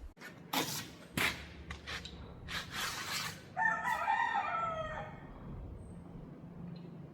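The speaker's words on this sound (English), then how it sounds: "I'm going to find that fucking cockerel." A cockerel crows once, distinct and moderately close amid quiet background rustling and a few soft knocks, with no speech.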